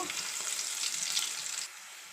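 Mustard seeds, crushed garlic and cumin crackle and sizzle in hot oil, a close, steady bright hiss that drops to a softer fizz near the end.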